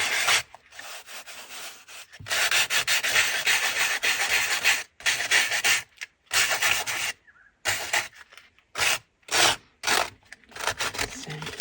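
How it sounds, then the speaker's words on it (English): Sandpaper rubbing over the sharp, raised edges of a pop-up pocket, heard as close, dry rasping strokes in repeated bursts separated by short pauses. "sand it a bit just to knock off some of those sharper edges"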